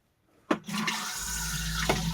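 A campsite toilet flushes with a sharp click of the button, then a steady loud rush of water that keeps running, heard up close in a small room.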